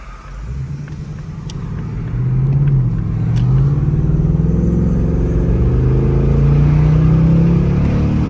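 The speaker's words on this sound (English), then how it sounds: "Let's hear this launch." Ford S650 Mustang GT with an MBRP race exhaust launches, a deep V8 exhaust rumble building from a steady drone into a loud, rising rev that climbs through gears and holds near and strong.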